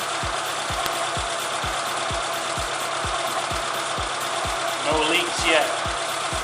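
A Suzuki Samurai engine idles steadily while warming up, with a regular low rhythmic pulse close by; a voice briefly speaks over it.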